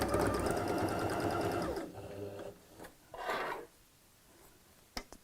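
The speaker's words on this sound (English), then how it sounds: "So I need to sew this together to make a box shape." Sewing machine stitching a tote bag together, a steady fast whirring run close up that stops partway through, followed by quieter fabric handling and a sharp click.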